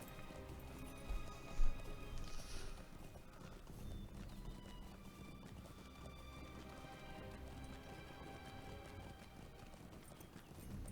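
Hooves clip-clop steadily while a horse whinnies faintly amid quiet background ambience in The Lord of the Rings Online, the sounds soft and somewhat distant.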